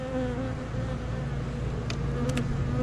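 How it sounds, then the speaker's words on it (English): Honeybees buzz in a low, continuous drone inside a hive during a seven-day inspection, fairly faint and close, with a few brief louder flickers. "Few bees here."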